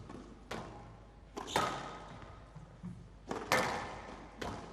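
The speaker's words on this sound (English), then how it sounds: "That's a lovely volley." Squash balls struck during a professional Egyptian Open rally, several sharp close thwacks and thuds off racket and walls at an uneven rally rhythm.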